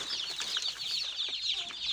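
A crowd of chicks cheeps and peeps continuously in high-pitched chirps, close by in a brooding cage, with occasional soft clucking mixed in.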